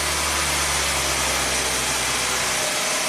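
A Hyundai car engine runs steadily at a low, even hum, settling back to idle, close and continuous with no voices.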